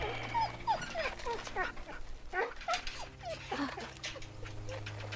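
Dog whimpering and whining in The Walking Dead video game (Season 2, PS5), a series of short high yelps and whines recurring through the clip over a low game hum, with a voice speaking in places.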